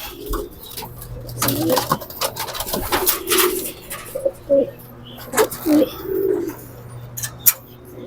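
Racing pigeons cooing inside a loft in Manila, with soft repeated low coos and some rustling and scattered knocks close by. No one speaks.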